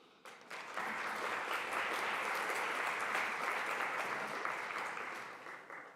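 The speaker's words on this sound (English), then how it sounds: "I'd like us all to give a big round of applause for this good work that has been done yesterday and today" Sustained applause from a workshop audience, a dense steady wash of many hands clapping that swells quickly, holds for several seconds and begins to taper at the end.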